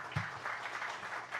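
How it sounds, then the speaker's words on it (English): Audience applause after a research presentation on electric power grid mitigation: a soft, fairly distant wash of many hands clapping, steady for its short length with one brief low thump near the start. "So let's give them a quick round of applause."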